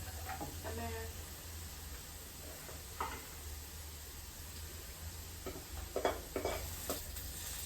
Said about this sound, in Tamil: பாவக்காய் நல்லா பொறிஞ்சிட்டு தான் இப்போ என்ன செய்யணும்னு சொன்னால் பாவக்காயை எண்ணெயிலேருந்து எடுக்கணும்